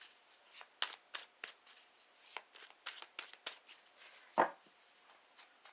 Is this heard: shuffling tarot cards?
yes